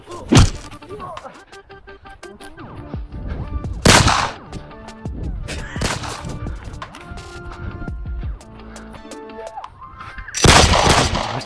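Gunshots from a Turkish-made interactive video game: heavy, booming shots at the start, near the four-second mark and again at the end, with rattling action and game sounds filling the gaps between them.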